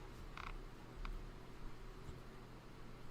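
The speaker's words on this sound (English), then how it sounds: "They took my ceiling fan sound and used it in the TNT." Faint, quiet creaks from a ceiling fan, with a few squeaky ticks over a soft, steady whirring hum.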